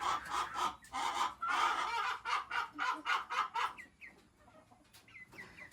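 Several chickens cluck in a rapid, irregular run of short calls, fairly close and loud, easing into softer, sparser clucks near the end.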